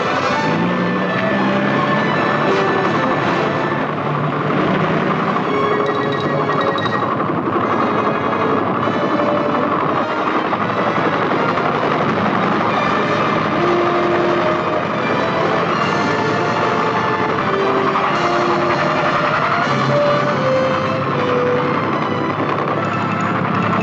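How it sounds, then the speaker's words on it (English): A steady, dense mechanical drone with a whirring edge from a large US Army troop-transport helicopter's rotor and engine, constant and loud throughout. "Some helicopters are big enough to transport a full combat platoon,"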